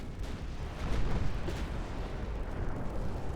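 French 8-inch naval guns fire in an Ultimate Admiral Dreadnoughts battle set around 1900, a low, continuous rumble of distant gunfire and explosions with a slight swell about a second in.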